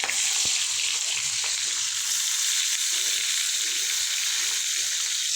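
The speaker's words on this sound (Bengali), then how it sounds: "এখন ম্যারিনেট হয়ে গেল, এখন তেলের উপরে ভাজতে হবে" Marinated fish sizzles steadily in hot mustard oil, a loud, continuous crackling fry with faint stirring clatter close by throughout.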